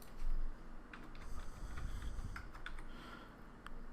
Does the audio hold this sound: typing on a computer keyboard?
yes